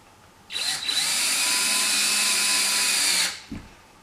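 Cordless power drill driving a screw into an RV ceiling vent cover for a Fan-Tastic Fan: one sustained high whine of about three seconds, near and fairly loud, then a brief clunk as it stops.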